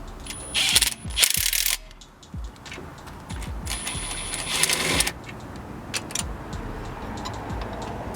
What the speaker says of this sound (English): we can go ahead and take our little impact. We can run them in.